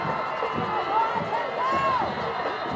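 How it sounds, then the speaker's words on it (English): Crowd noise at a high school football game between De La Salle and St. James, a steady roar of cheering and shouting with a few whistles or whoops rising through it, under a commentator's voice. "Crowd getting into it, as you can hear."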